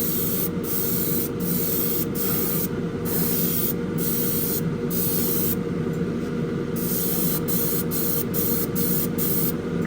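Clear coat sprays steadily onto an AMT 1967 Impala Street Machine model car body, a loud continuous airbrush hiss with brief pauses between bursts and no talking.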